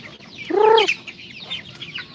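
A Rhode Island Red chicken lets out a loud, close, drawn-out squawking cluck at feeding time, followed by softer chirps and clucks from the flock nearby.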